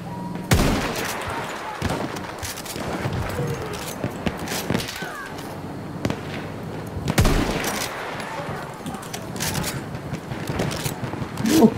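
Gunfire crackles through a Battlefield 1 firefight: sharp, loud shots and bursts come in irregular clusters, some close and punchy, over a steady din of battle, with someone speaking Portuguese at times.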